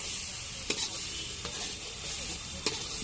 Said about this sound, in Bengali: মিশিয়ে দিয়ে হালকা নেড়ে নিয়ে এবারে তুলে দিলাম ফ্রাই করা চিকেনগুলো তুলে দিলাম